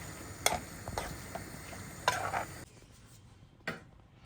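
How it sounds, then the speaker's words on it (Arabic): Food stirred in a pan with coriander, several scraping strokes and clinks of the utensil over a soft sizzle, the frying quieter in the final second. "نقلب بقى كله كده في بعضه ونسيبها بقى ايه تكمل سواها"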